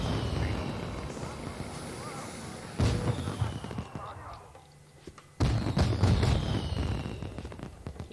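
Fireworks are launched in the video game Spore as dense, booming bursts and crackling blasts roll on continuously, fade briefly, then return with a loud, heavy crack.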